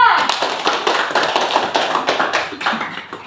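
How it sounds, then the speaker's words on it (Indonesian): A group of children claps hands together in a classroom, a brisk, fairly loud run of repeated claps that is steady at first and slowly thins out, with voices mixed in. "Oke, tepuk tangan dulu semua."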